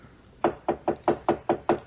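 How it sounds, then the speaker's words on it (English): Seven evenly spaced knocks on a bedroom door, a radio drama sound effect, close and firm with a steady rhythm and quiet between blows. "it is a very worried husband who knocks on a bedroom door."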